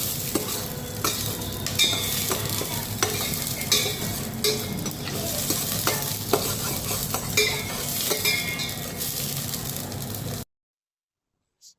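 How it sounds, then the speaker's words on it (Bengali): Spice masala for khichuri sizzles and is stirred in a pan with repeated scraping and clinks for about ten seconds before it cuts to silence. "মশলাটা একবারে কষাবো প্রথমে, কষিয়ে তারপরে মশলাটা কষাবো"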